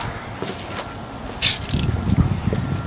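Valve cover bolts on a Saturn SL2 DOHC engine being loosened slowly with a 1/4 inch ratchet, giving a few soft, close mechanical clicks and scrapes over a low background hum.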